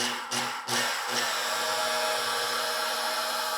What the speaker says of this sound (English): This is just to start bringing the shine back, and it'll continue to flatten out the texture at the same time with a wool pad.